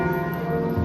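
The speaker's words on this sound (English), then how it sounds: "that's Little John, the bell" Little John, the great bell of Nottingham's Council House tower, rings out with a loud sustained tolling hum that fills the air, no voices over it.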